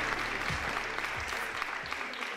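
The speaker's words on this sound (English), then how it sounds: "Another round of applause for these lovely people" Ceremony audience applause at the European Mobility Week and SUMP awards, a steady wash of clapping heard somewhat distant and muffled under low rumble.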